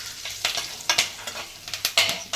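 Curry leaves crackling in hot oil for lemon rice, a close run of sharp irregular pops and spits over a soft background sizzle.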